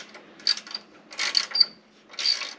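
Small metallic clicks and ratcheting from a 10 mm wrench tightening a bolt on a steel aftermarket bumper of a 2022 Toyota Tacoma TRD Pro, in three short close bursts with quiet gaps.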